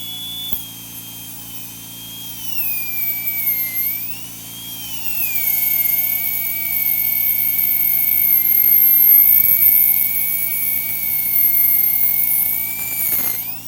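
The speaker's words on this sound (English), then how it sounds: "So the drill is like the speed of a dental drill" A continuous high-pitched whine of a fast-spinning drill, rising and falling slightly in pitch, loud and close, with no talking.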